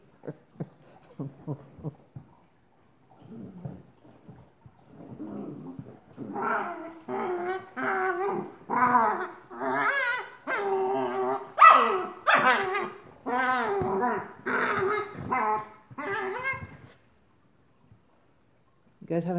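Puppies growling and yapping while playing indoors, starting with faint scuffles and then building into a long run of rapid, close, excited barks and growls.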